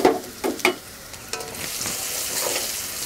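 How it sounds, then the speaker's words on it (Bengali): Ginger-garlic paste hits oil left over from frying eggs for an egg korma. A few clatters come first, then a broad sizzle rises and holds steady, fairly close. "আদা রসুন বাটা দিয়ে দিচ্ছি।"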